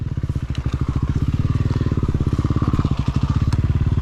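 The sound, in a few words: motorcycle engine riding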